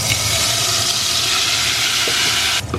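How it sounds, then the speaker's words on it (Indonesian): Sambal chili paste sizzles loudly as it is stir-fried in a pan for a salted squid and petai dish, a constant close frying hiss with a light clink of a utensil near the end. "Sekarang kita mau numis sambalnya."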